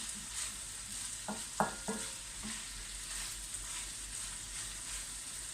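Chicken pieces with long green peppers and onion sautéing in a pan for a chicken sauté, with a steady soft sizzle and a few clinking spatula stirs near the start, no voices.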